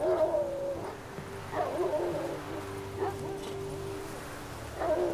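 A dog in The Witcher 3 whimpers beside its dead master, with several high, wavering whines and short yips spread across the stretch over a low, soft backdrop.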